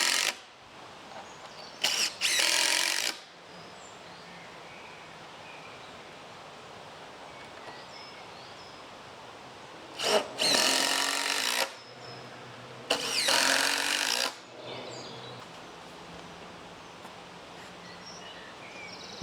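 Power driver sinks 4-inch external wood screws into timber posts in three short whirring bursts, separated by long quiet gaps outdoors.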